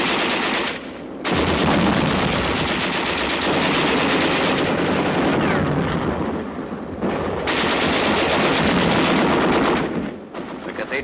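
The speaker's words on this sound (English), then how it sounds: "There is some machine gun fire and occasional shells, but little concerted resistance." Machine gun fire and occasional artillery shells rattle steadily during a battle as tanks and infantry advance on a besieged city, with dense bursts and a few brief pauses throughout.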